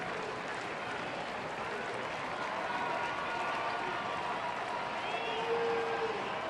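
A large crowd at an Angels baseball game on a sunny afternoon gives faint, distant, continuous applause that forms a steady wash of stadium noise.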